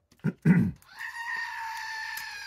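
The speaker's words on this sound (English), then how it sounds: "Good morning from the screaming one-eared stinking goat." A one-eared goat gives a single drawn-out bleat after a couple of short knocks, moderately close and clear against quiet surroundings.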